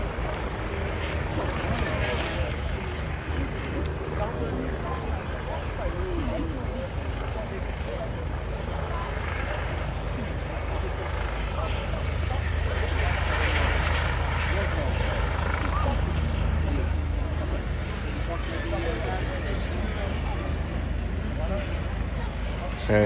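A Juno aircraft with Red 10 aboard arrives at an airfield airshow, its engine and rotor roar a dense, steady rumble that swells slightly midway, heard under a commentator's voice over the public address.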